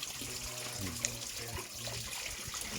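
Free drinking water running from a tap in the mountain village of Buscalan, a steady trickle and splash heard up close under continuous background chatter and voices.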